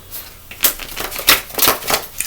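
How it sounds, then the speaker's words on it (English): A deck of tarot cards is shuffled up close, with several quick riffling bursts and soft pauses between them and no voice over the sound. "let's get into this shuffle to see what's going on"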